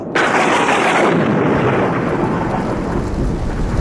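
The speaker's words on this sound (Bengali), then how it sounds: "এই যা, কেড়ে বৃষ্টি শুরু হয়ে গেল।" Animated cartoon storm: a heavy thunderclap breaks in and rolls on under a steady, loud downpour of rain that fills the whole scene, with no voices.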